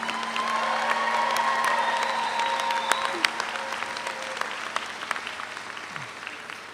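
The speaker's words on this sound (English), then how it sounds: "let's give another round of applause for Sagaree and Joe" At a Berkeley public health commencement ceremony in 2022, a large audience applauds steadily, with scattered cheers and whoops rising above the clapping before it gradually thins out.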